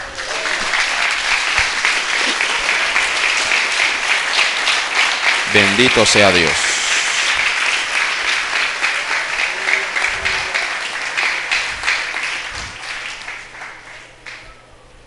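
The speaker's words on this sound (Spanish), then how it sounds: "Préndele un aplauso al Señor." A church congregation breaks into sustained applause, loud and dense for most of the stretch and tapering off toward the end, with a voice briefly speaking over the clapping midway.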